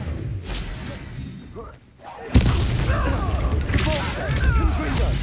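A blasting-curse explosion from a spell cast in Hogwarts Legacy, a sudden loud boom partway through, followed by crackling debris and combat noise, with a spoken incantation just before.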